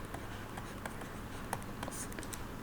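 Pen scratching on paper during a lecture on finite fields: faint, quick strokes over quiet room tone, with no speech.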